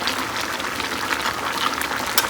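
Vegetable curry of ash gourd, potato and fried lentil bori simmers loudly in a pan, a continuous close bubbling and sizzling with no talk.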